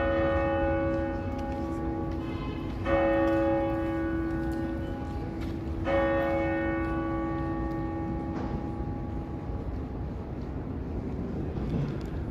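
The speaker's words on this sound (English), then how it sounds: "when I heard the chimes coming in" Clock tower bells ring out in Toronto on a humid Saturday evening, three resonant strikes spaced a few seconds apart and fading into a steady city hum, moderately distant.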